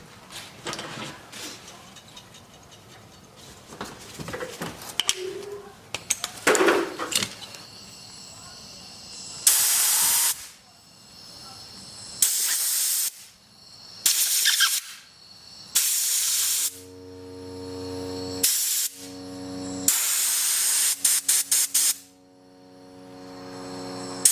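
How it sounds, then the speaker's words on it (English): Repeated bursts of compressed air hiss loudly in short and longer blasts while cleaning a 5 hp wood-splitter engine, separated by mechanical clicks and handling noises, with some blasts carrying a whistling tone. "let's spray this out with some compressed air."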